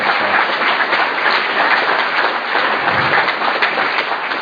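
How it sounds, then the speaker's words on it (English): Audience applause for candidates at an election hustings in Exeter, a steady dense wash of clapping that holds at a fairly loud, even level throughout. "can we have a round of applause for all our candidates this evening?"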